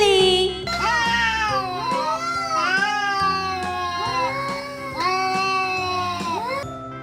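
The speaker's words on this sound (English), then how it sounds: "C for cat" A cat meows repeatedly in a steady, sing-song rhythm, loud and close, each long meow rising and falling with a musical accompaniment underneath.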